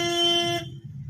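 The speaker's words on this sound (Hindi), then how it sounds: "इनको हॉर्न दे दो भैया को" A car horn sounds during a driving lesson on the road, one steady honk lasting about half a second, clear and fairly close, then cutting off to quiet engine and road noise.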